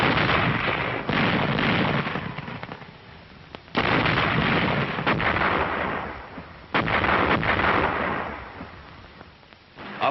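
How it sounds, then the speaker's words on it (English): An artillery barrage bursting ahead of waiting infantry in a Pacific war setting, with repeated heavy booming blasts and rumbling roll-off, several sharp impacts spaced a few seconds apart over continuous low rumble, fairly loud. "the infantry watched the smoke and bursts of the barrage"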